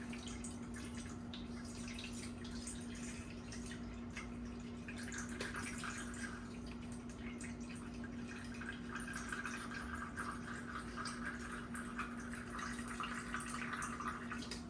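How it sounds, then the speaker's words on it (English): Excess liquid being poured off homemade bread stuffing or dressing, a faint, steady trickle and drip of liquid that continues throughout with no talking. "So I'm pouring the liquid off."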